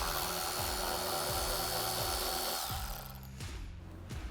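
A power tool whirs steadily and closely as it backs a 7mm screw out of the rear splash guard on a C8 Corvette Z06, with short pitch drops between bursts before the motor winds down.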